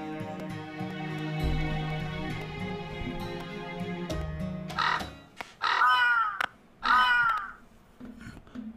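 Crows caw in the video game Fate/Grand Order: two loud, harsh calls close together near the end, rising out of a steady bed of game music.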